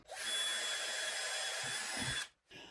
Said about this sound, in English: drill some pilot holes for the screws